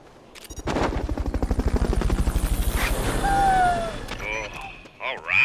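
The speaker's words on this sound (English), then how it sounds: "Fulton recovery subject confirmed onboard helicopter." A helicopter in the Metal Gear video game chops loudly with a steady, rapid rotor pulse for a few seconds, then fades as electronic game tones and effects take over.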